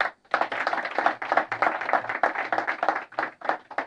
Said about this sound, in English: Please clap for this girl.